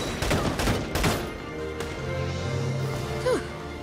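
Bursts of rapid gunfire in the video game Valkyria Chronicles crackle in quick volleys at the start, then fade under lower game sounds and a brief rising tone near the end.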